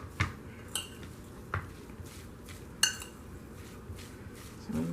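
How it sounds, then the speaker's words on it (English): A utensil mixing salmon cake ingredients in a bowl, with a few scattered light clinks and taps against the dish over a soft background hum, fairly quiet and close. "So we're mixing this all up."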